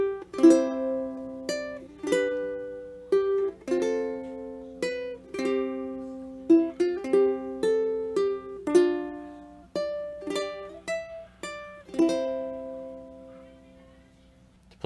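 Fingerstyle ukulele plays the Filipino folk melody Bahay Kubo in C, plucked single notes and chords ringing in a gentle, unhurried rhythm, close and clear with no talking.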